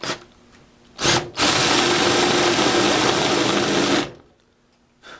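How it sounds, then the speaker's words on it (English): A power drill with a 3/4 inch wood boring bit bores into a splitboard base: a short burst, then a loud, sustained three-second whine, then stopping, with quiet handling gaps between. "Now you're going to use your 3/4 inch wood boring bit on the base of the board"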